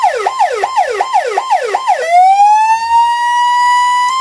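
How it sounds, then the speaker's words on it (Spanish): Ambulance siren blares up close, first a rapid whooping yelp of about six quick rising sweeps, then switching to a long steady wail that climbs and holds, loud throughout. "el significado que tienen estos sonidos de las ambulancias"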